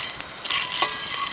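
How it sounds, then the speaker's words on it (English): Coffee beans stirred in a pan as they roast over a camp stove at a wild campsite, giving light metallic scrapes and small clinks in an uneven rhythm, close up and without talk. "I'm mid-stir now, and I don't want to avert my focus anywhere else apart from making sure that the beans are not burning"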